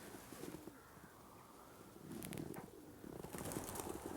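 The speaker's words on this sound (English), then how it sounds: "If you listen carefully, you can hear all the pigeons." Pigeons coo softly at a set of stables, with low, throaty calls that come in uneven bursts against a steady outdoor background. No one speaks.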